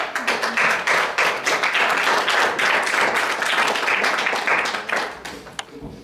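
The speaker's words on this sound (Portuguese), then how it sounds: "Uma salva de palmas" Audience clapping at a community workshop on territory and local development, a steady dense patter of many hands that holds for about five seconds and then thins out and fades.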